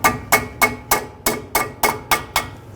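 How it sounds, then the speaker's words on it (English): A hammer tapping a brake hose retaining clip into place on a 2014-2018 GMC Sierra 1500, eight sharp metallic taps at an even, quick rhythm, close and clear with no talking. "Just give it a little tap with a hammer."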